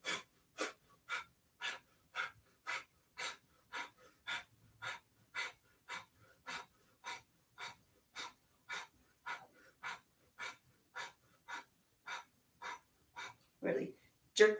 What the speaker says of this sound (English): And here we'll begin the breath of fire. So nice deep inhale. And kick out the breath through the nose.